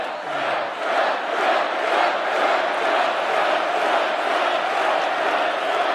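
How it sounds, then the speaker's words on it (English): A feisty crowd at a Trump MAGA rally in Allentown, Pennsylvania roars and cheers steadily, a dense, loud wall of voices with rising shouts that carries on without a break. "This is a feisty little crowd, isn't it?"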